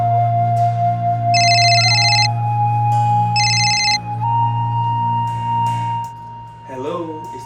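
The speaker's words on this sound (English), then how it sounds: "Next thing, I get a phone call." A phone ringtone sounds in two loud electronic trilling bursts over a steady hum, then fades out as a voice begins speaking.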